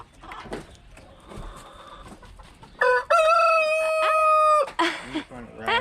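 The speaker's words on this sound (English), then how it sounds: "Oh, that's the rooster." A rooster crows loudly and close by in one long, drawn-out call, preceded by softer clucking from chickens and quiet background noise.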